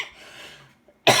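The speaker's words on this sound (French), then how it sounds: "Ah, pardon, excusez-moi, je tousse encore un peu" A woman coughs once, a short loud burst near the end, after a stretch of faint talk-like murmur and a brief pause.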